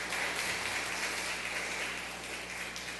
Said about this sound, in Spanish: Un fuerte aplauso también para el doctor González.